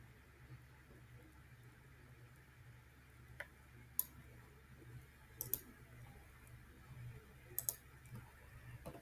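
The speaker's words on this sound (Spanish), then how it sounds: "Clicamos a Enter." A few faint, sharp computer clicks while confirming a step in Civil 3D, spaced irregularly over a quiet low hum in a still room.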